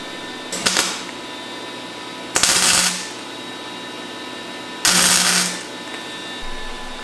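Three separate bursts of welding on a Ski-Doo BRP rail mount ice scratcher, each a harsh crackling hiss lasting under a second, with a steady electrical hum underneath, close by.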